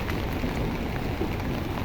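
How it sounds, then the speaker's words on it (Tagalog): Heavy rain pours down in a constant, dense hiss with no pauses, filling the space evenly and fairly loud. "Lalong lumalakas yung ulan."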